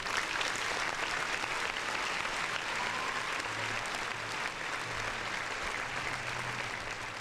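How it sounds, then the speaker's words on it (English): Audience applause for a podcast, a continuous, fairly loud round of clapping with a faint low hum beneath it, fading a little toward the end. "Round of applause."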